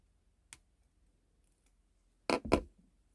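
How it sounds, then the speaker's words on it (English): Wire cutters snipping the tail end of wire on a wire-wrapped heart pendant: one small sharp click, a pause, then a louder double snip close up, otherwise quiet. "I'm going to cut that tail end off."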